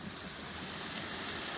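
A waterfall in a Malaysian forest pours steadily, a continuous even rush of falling water heard alone without voices.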